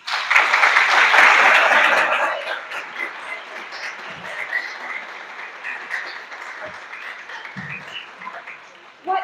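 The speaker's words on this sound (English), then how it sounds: "Can we give her another round of applause?" Loud applause from an audience at a school press conference fills the opening seconds, then fades to scattered, softer clapping that trails on.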